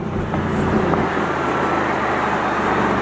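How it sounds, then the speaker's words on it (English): BMW i8 driving through a road tunnel: a steady, enclosed roar of engine and tyre noise with a low hum underneath, constant and moderately loud, with no one speaking. "See if we get some tunnel noise."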